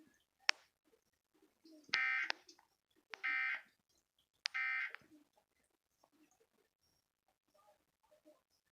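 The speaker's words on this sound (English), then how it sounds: "This is a test of the emergency alert system." An Emergency Alert System test from a Dallas-Fort Worth TV station plays three harsh, buzzy header tone bursts at a steady rhythm, each about half a second long, followed by faint scattered sounds.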